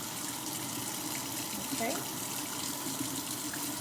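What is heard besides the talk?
water running from a tap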